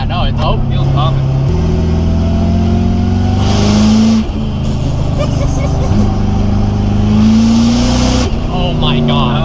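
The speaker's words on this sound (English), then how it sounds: "You hear those wastegates opening up." A modified Rolls Royce engine revs hard from inside the car, a loud, deep roar that climbs and drops through gear changes, with bursts of hissing rush as the wastegates open.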